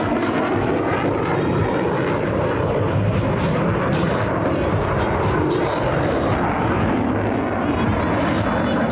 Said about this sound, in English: snap the F-16 through a series of aileron rolls, demonstrating its exceptional roll maneuverability